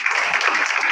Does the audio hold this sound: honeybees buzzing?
no